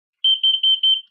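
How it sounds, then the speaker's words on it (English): A home smoke alarm under a kitchen table chirps four quick high-pitched beeps in an even rhythm, close and loud, with silence around them. "smoke alarms going off."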